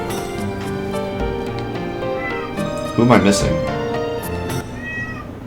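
A cat named Seymour lets out a single drawn-out meow partway through, rising above steady game music while people talk over it.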